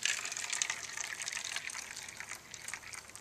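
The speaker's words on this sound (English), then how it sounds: "180 degree water on it." Hot water at 180 degrees is poured onto an EFI temperature sender from a Toyota 22RE engine, giving a steady close splashing and trickling stream that runs alone for about three seconds.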